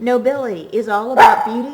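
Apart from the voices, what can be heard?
dog barking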